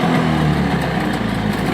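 A Honda Zip scooter engine held on the throttle, giving a steady, loud mid-pitched motor drone with a slight rise as it revs.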